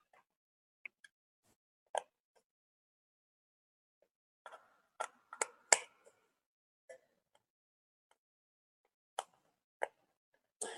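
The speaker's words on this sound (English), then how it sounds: "you can feel it when you unscrew it enough that the latch does come up" A screw is unscrewed to open a battery compartment, heard as sparse, faint close-up clicks and ticks separated by near silence.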